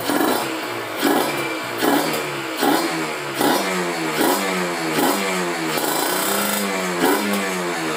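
A Kawasaki Ninja RR two-stroke motorcycle engine revs repeatedly in short sharp blips, each rising and falling quickly over a rough idle, loud and close with no talking.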